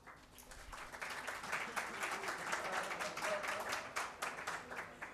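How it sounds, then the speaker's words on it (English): Audience applause after a talk at an architecture event, dense steady clapping filling the whole stretch at moderate loudness, with no speech over it. "Give him an applause."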